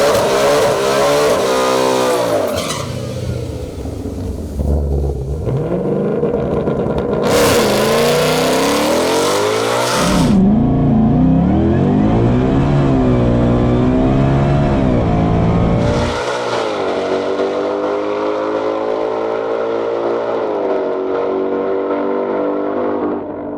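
A nitrous-fed Shelby GT500 on race gas roars through a drag racing run, the engine screaming loud and climbing through several gear changes before easing off toward the end, no voices.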